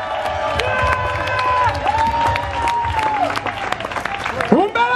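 Audience at a Wrestling Megastars show in Bologna applauding and cheering, loud continuous clapping mixed with shouts, whistles and voices from the crowd throughout.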